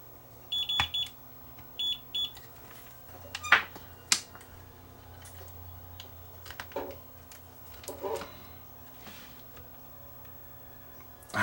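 Short beeps from a multimeter on continuity test while probing a cable on a Bluesound 2i audio streamer, two brief bursts early on, then scattered clicks and taps over a low steady hum.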